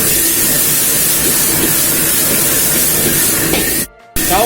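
Mung bean sprouts tossed into a hot wok over high flame give a loud, steady sizzling hiss that runs almost unbroken before cutting out briefly near the end.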